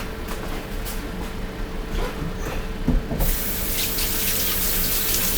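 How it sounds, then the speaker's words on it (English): Water runs from a kitchen sink tap, a steady close rushing hiss that grows brighter and fuller partway through as hands move under the stream. "I'm going to wash my hands with soap."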